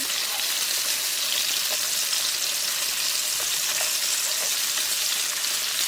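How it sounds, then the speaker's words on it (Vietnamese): Shrimp pan-frying in two tablespoons of hot oil in a pan, a dense, steady sizzle that holds close and loud throughout with no talking. "Dầu nóng thì mình cho tôm vào chiên áp chảo."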